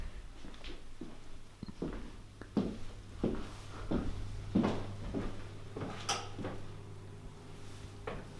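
Hotel room outer doors are handled, giving a series of wooden knocks, clicks and latch sounds spaced irregularly across the clip. A steady low hum sits underneath and no one speaks.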